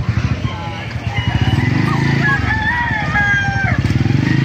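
A five-month-old Melsim Black rooster crows loudly and close, one long drawn-out call, amid a busy market with people talking and engine noise in the background.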